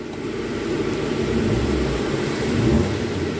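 Fiat Uno engine idling and being revved, a low steady rumble that swells slightly toward the end, with no talking.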